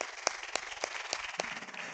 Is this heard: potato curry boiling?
no